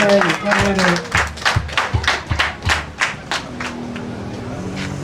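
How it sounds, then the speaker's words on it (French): A small group at a ceremony claps in a quick, even burst for about three seconds, then the clapping fades and a low murmur remains. "Veuillez les applaudir, je vous en prie."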